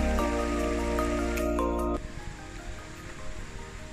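River near Fairy Meadows at the Nanga Parbat base camp area rushing steadily nearby, heard first under a loud droning motor hum that cuts off abruptly, leaving the broad, constant roar of flowing water.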